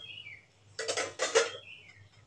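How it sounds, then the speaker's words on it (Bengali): A pot lid is lifted off a simmering pot of lentil dal, making two quick metallic clatters close by over a quiet kitchen background. "ঢাকনা নামিয়ে নেব।"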